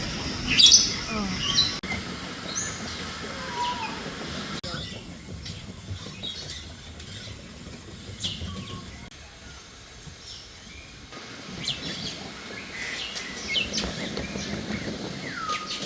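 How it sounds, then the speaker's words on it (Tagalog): Birds chirp and tweet intermittently at Bird Paradise, a large bird park in Singapore, over a constant background wash, with faint voices here and there. "saan ka tumingin, may ibon eh, no?"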